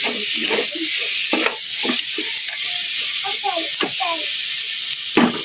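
Onions tossed into a hot pan for papaitan soup, a loud continuous broadband sizzle with stirring and scraping through it, close up, with brief muffled voice-like sounds underneath.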